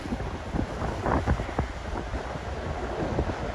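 Wind gusts roar steadily across an FDNY emergency scene in New York where a crane arm swings loose, a broad continuous rush with buffeting against the microphone and no voices.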